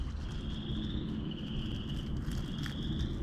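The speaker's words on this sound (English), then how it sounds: "We picked a spot where you could hear frogs" Frogs call at a nature preserve on the Deer Grove Loop in Illinois: a steady, continuous high trilling chorus that holds through the whole stretch over a low outdoor rumble, moderately distant and without talk.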